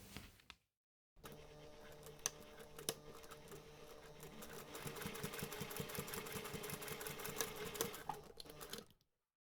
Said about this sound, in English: take this to the machine and top stitch along those two folded edges